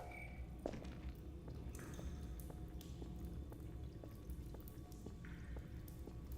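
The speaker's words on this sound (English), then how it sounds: "I hear water." Water drips in a dim tunnel on a Half-Life 2 map, a steady series of small splashing drops over a low constant hum, with soft footsteps now and then.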